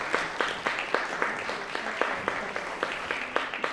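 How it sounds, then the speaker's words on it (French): A crowd at an outdoor peace rally applauds a speaker, fairly faint scattered clapping with distinct individual claps standing out in an uneven rhythm, heard from a distance with the murmur of the crowd underneath. "Merci beaucoup, Jihad, qu'on peut applaudir là aussi"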